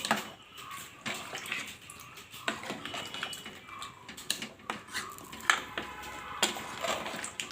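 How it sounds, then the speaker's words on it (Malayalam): Water poured into a pot of beef curry on the stove, intermittent splashes and pouring mixed with clinks of utensils against the pot, fairly quiet and close. "നമുക്ക് ഇതിനകത്ത് കുറച്ച് വെള്ളവും കൂടെ ആഡ് ചെയ്ത് കൊടുക്കാം"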